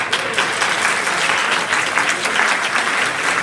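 Audience applause at a national convention of auctioneers, steady dense clapping from a large room, sustained and fairly loud without a break.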